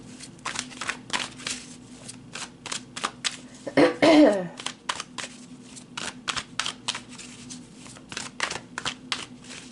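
Tarot cards shuffled and drawn in a card reading, a quick string of close, crisp riffling flicks with a louder rustle midway as a card is pulled, faint background hum underneath.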